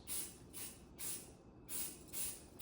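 Several short bursts of hissing aerosol spray paint from a can, each about half a second, separated by brief pauses, fairly quiet and with no voices.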